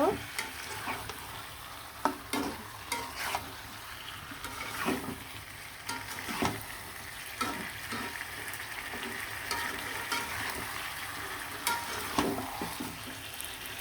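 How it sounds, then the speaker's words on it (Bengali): Fish pieces fried with spices are stirred around a pan, the spatula scraping in repeated strokes over a steady sizzle of hot oil; no one speaks. "দিয়ে ভালো করে নাড়াচাড়া দিয়ে কিন্তু আমি মশলার সাথে একদম সুন্দরভাবে মিশিয়ে নিব"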